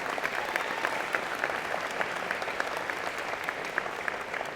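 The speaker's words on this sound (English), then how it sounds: "that deserves another applause" Steady, dense applause from a large audience at a college engineering and computer science convocation ceremony, sustained and even throughout with no voices over it.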